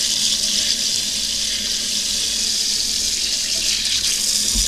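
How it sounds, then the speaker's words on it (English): Tap water runs steadily into a sink while cornstarch is washed off hands, a continuous hissing splash heard alone at close range. "First of all, I'm going to wash off my hands."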